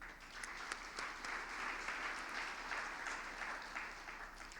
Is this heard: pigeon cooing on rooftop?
no